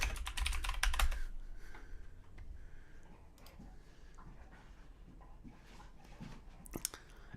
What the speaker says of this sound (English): Mainly backspace noises.